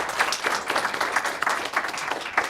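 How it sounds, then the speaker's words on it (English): An audience at a conference on Uzbekistan's development strategy applauds the speakers after their presentation, giving a lively round of clapping with distinct individual claps in an uneven rhythm and no talking. "I would like also ask the audience to give good round of applause to our speakers."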